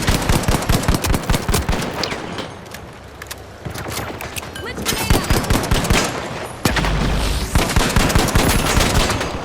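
Rapid automatic rifle fire from the LH1 rifle in The Finals, played in an arena match, rattles in dense, loud bursts with short pauses throughout, under some faint talk.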